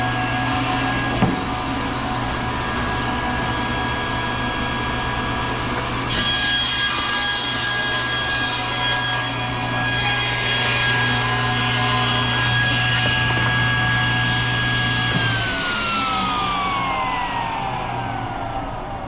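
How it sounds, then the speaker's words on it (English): A powered saw in a woodshop cuts a wood workpiece for a box build, a loud continuous whine and rasp that holds steady for most of the stretch before the motor pitch slides down as it winds off. "We'll turn the saw back on."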